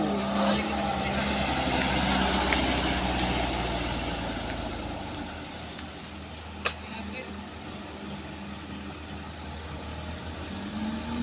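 A vehicle engine roars and strains as it climbs a steep incline with smoke billowing, a loud, steady low rumble that persists throughout while voices speak over it.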